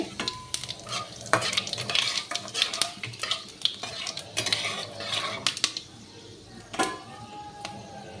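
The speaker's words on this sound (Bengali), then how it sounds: "এবার আমি দুটো শুকনো লঙ্কা আর 5 ফোড়ন দিয়ে দিলাম তেলের মধ্যে।" Dried red chillies and five-spice frying in hot oil, a soft crackling sizzle broken by sharp clinks of a metal spatula against the pan and stirring scrapes, fairly close and moderate in level.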